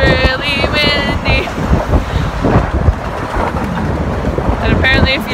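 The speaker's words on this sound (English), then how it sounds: "It's really windy." Strong wind buffets a microphone outdoors in a loud, continuous rumbling roar, with gusts swelling and easing throughout.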